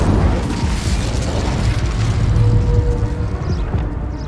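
Incendio fire spell cast in Hogwarts Legacy during a dense, loud combat sequence, with heavy booming bursts and rumbling impacts running continuously throughout.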